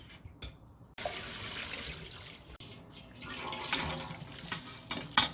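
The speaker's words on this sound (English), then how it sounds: "Then we have to rinse with cold water." Cold tap water runs steadily over freshly boiled noodles for vegetarian japchae, a continuous splashing rush with brief breaks near the start.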